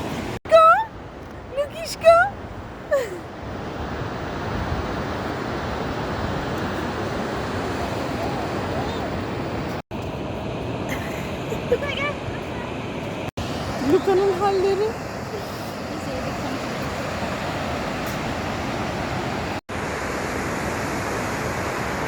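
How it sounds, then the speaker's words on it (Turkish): Pacific Ocean waves wash steadily against a wet shoreline near Nanaimo, a continuous broad hiss of surf with a few short voices and laughter near the start. "Pasifik okyanusu acayip güzel ama şu an su gelmez umarım."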